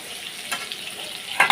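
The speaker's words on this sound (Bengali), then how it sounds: "একটু লাল লাল করে ভেজে নেবো আলুগুলো।" Potatoes fry in hot oil in a home kitchen, a close, continuous sizzle with small crackles and a sharper spatter near the end as they are stirred.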